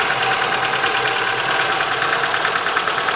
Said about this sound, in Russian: шум пока от двигателя идет.